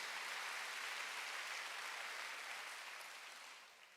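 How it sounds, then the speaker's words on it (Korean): A church congregation gives warm, sustained applause during a Wednesday worship service, with dense clapping that fills the room and slowly fades toward the end, no speech over it. "박수로 받아주세요"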